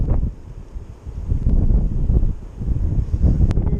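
Wind gusting across a snowy river while fishing with a casting rod, a steady low rumble of buffeting against the microphone that swells and eases throughout, with no talk.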